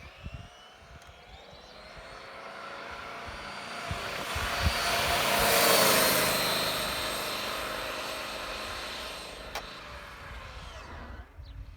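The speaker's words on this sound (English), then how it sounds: "While the road's clear, let's go ahead and bring it back for one last pass." A Traxxas X-Maxx RC car running on 6S lipos speeds past on a road, a whining motor rising to a loud peak midway and fading off, with steady outdoor background throughout.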